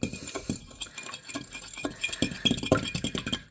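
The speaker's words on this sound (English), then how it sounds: "Let's just mix this up a little bit." Dumpling batter being stirred in a bowl for drop soup dumplings, with a utensil scraping and clinking against the bowl in quick, uneven strokes, close up, with no voices.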